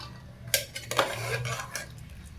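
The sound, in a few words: mashing cooked food in a bowl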